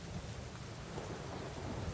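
A thunderstorm with steady rain fills the air, a low rumbling roll of thunder under constant hissing rainfall, heard quietly and at a distance without any talking.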